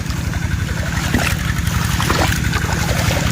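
Irrigation water flows steadily into a field of 35-day-old onions, making a continuous close rushing and trickling wash with no voices.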